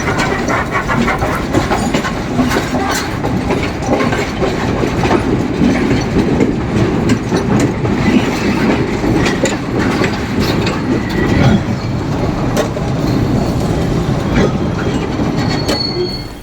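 A train rolls along rails running beside the sea near Colombo, a loud continuous rumble of wheels with rhythmic clickety-clack and occasional squeals, steady from start to finish.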